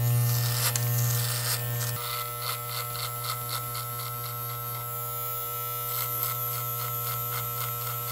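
Cheap electric hair clippers running close by with a steady, loud, buzzing hum that holds throughout, its pitch shifting slightly as the blades press during a self-cut fade.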